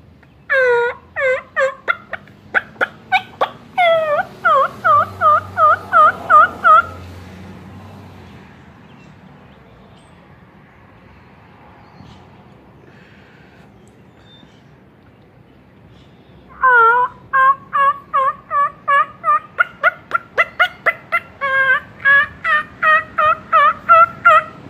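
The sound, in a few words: turkey gobble imitated with a turkey call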